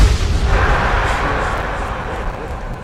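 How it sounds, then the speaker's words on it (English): Explosions in the fantasy role-playing game Enderal, a loud close boom that trails off into a rough fading rumble over a few seconds, with a voice partly over it. "Explosions."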